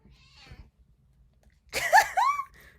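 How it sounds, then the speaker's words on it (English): Pet cat meowing twice in quick succession, close and fairly loud, after a brief faint stretch of quiet background noise in a calm indoor room. "my cat Lucky is here"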